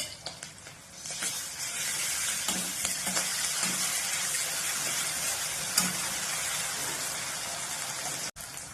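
Dry red chillies, onion and ginger-garlic paste fry in a pan with a steady, loud sizzle that swells after a quiet start and holds evenly, with faint stirring scrapes and a brief clunk near the end.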